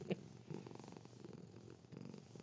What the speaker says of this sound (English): this kitty in my lap who's purring right now